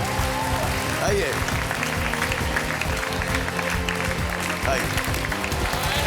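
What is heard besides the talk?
audience applause for a game show contestant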